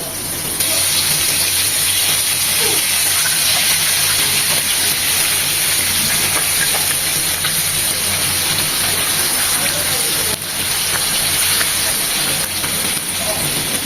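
Chicken drumsticks deep-frying in hot oil over medium-low heat, a steady dense sizzle and crackle throughout, close and loud.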